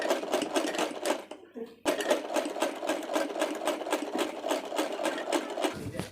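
A sewing machine stitches along the edge of a suit design in a fast, steady run of close needle strokes, pausing briefly near the start and then resuming loudly.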